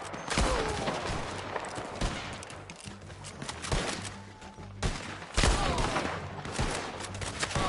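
Dense volleys of gunfire in Red Dead Redemption 2 during a shootout with men on the ground, loud overlapping shots and bursts continuing throughout.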